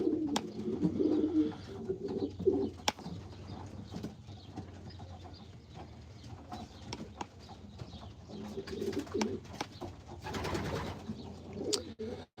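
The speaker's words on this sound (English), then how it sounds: "Yes, these are all racing pigeons." A flock of racing pigeons coos inside a loft, low burbling calls rising and falling, mixed with a few sharp clicks and brief wing rustles, close by and without talk.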